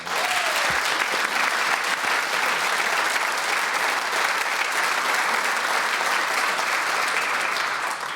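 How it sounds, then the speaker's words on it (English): Studio audience at a radio quiz semi-final giving a warm, sustained round of applause, dense and even clapping that holds steady for about eight seconds. "what we can award you has all the elements of a warm and heartfelt round of applause"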